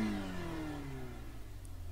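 A Mazda MX-5 Cup race car engine in iRacing at Spa-Francorchamps drones steadily, its pitch sliding gradually downward as it slows, close and continuous with no talk.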